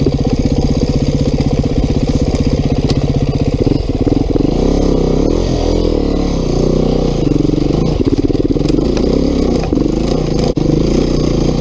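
A dirt bike engine runs loud and close on a single track trail, its pitch rising and falling as the rider throttles up and down over uneven ground, with rattles and clatter over the constant motor drone and no talking.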